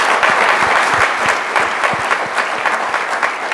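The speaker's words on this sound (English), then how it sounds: "Let's give them a round of applause, please" A room full of people applauds supervisors at an awards ceremony, brisk continuous clapping with distinct individual hand strikes, fairly close and even in loudness throughout.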